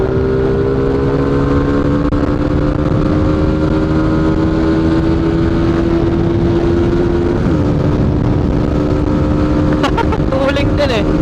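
Rusi Flash 150X motorcycle engine revving loudly up close, pitch climbing and dropping through several rises, with a voice speaking over it near the end.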